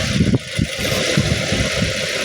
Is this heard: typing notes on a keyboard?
no